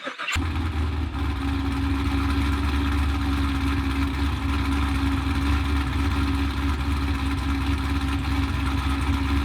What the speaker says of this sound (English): I forgot, my race car's got a remote start.